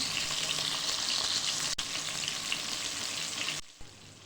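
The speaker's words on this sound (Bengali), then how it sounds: "আমি মাছটা দুপাশে উলট পালট করে ভেজে নিয়েছি" Fish sizzles steadily in hot oil in a kadai, a dense continuous frying hiss with one brief dip, cutting off sharply near the end to a quieter tail.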